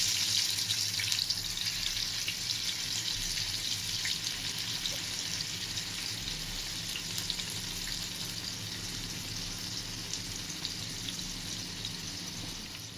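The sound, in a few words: shrimp frying in oil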